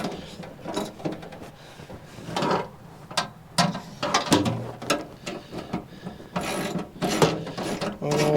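Someone snugs bolts on a remote steering console bracket for a 12-foot fishing boat using a wrench, producing irregular metallic ratcheting clicks and scraping bursts, close up, with faint voice in places.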